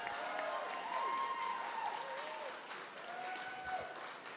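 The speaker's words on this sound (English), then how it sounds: "I love the fact that we clap for them and we haven't even said why, but yes, keep clapping." An audience claps for student ambassadors at a school district meeting. The applause holds steady for several seconds, with raised voices and whoops mixed through the crowd noise.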